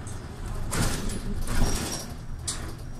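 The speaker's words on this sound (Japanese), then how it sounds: "扉が開いてからお席をお立ちください。" A Nagoya city bus door opens at a stop on route Naruko 11, a loud hissing, sliding mechanical whoosh over the steady rumble of the idling bus interior.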